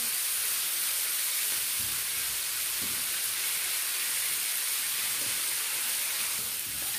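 Malai tikka boti frying in a pan, a loud constant close hiss of sizzling oil that fills the whole stretch with little change, a few soft low bumps beneath it and no talking.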